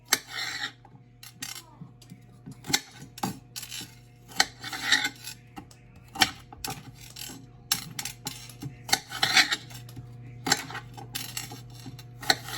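A knife chops celery on a cutting board during dinner prep for garlic parmesan wings, a quick run of irregular sharp taps and knocks, close and fairly quiet, with no talking.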